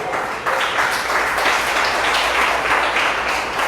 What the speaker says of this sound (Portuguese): E aplauda ao Senhor